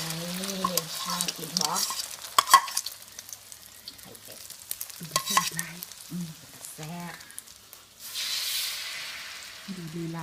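Eggs fry in a pan late at night with a steady crackling sizzle, broken by clinks and scrapes; brief voices or hums surface now and then over the frying.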